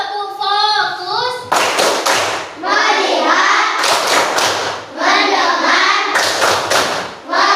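A classroom of children performs a rhythmic clapping chant, loud bursts of several quick claps alternating with sung or chanted words from the group, repeating in a steady pattern.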